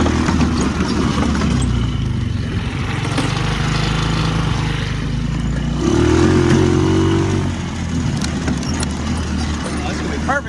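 A long-idle Yerf Dog spider box go-kart engine runs steadily close by, a loud continuous small-engine drone that swells briefly around the middle, with people talking over it.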